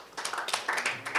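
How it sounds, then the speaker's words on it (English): Brief applause from a conference audience after a presentation, a short burst of scattered clapping that is fairly close and clear. "Let's give him another round of applause."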